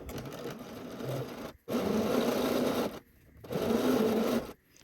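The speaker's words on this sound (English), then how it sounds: "I'm just going to sew with the outer yoke up because I want to stitch right on that previous stitching line" A sewing machine stitches along the outer yoke of a shirt. It whirs steadily in three bursts with short pauses between them, close and fairly quiet, with no talking.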